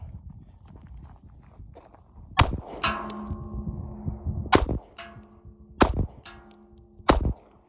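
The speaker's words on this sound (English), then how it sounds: "shooting the Alpha Foxtrot Romulus" Four sharp Alpha Foxtrot Romulus pistol shots cracking out at irregular intervals, each followed by a ringing metallic clang from a steel target, loud and close on an outdoor range.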